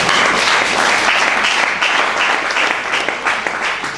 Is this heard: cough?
no